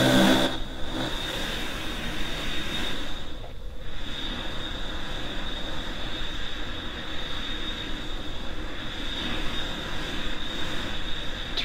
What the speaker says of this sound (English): Alright, let's continue taxiing to the runway.